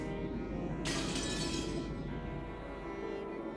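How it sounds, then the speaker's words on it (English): A teacup crashes and shatters on the floor in a video game, a sudden loud ceramic break lasting about a second over a steady background hum, with no voices. "A teacup on the table smashed on the floor, making a violent sound."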